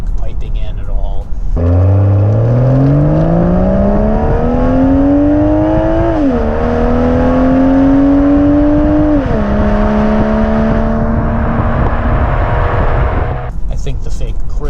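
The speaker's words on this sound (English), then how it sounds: "The car has quite a lovely exhaust note on its own" A 2020 BMW M340i engine and exhaust revving, loud and close, with a rising pitch that climbs through gears, dips at shifts and holds steady before cutting off.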